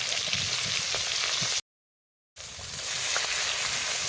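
Soft, steady sizzle of fish frying in oil in a pan in a home kitchen, fairly faint and continuous, interrupted by a short gap of silence partway through.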